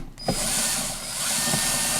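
A power screwdriver whirs steadily, driving screws back into a game controller on a workbench; a continuous close buzzing motor with brief clicks as it engages.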